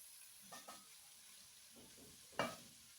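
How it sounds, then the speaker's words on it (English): Beef stir-fry being stirred in a pan: a soft steady hiss with a few faint, scattered scrapes and taps from the utensil, quiet and close, with no talking. "Continue stirring like that."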